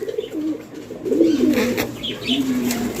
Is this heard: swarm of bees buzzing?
no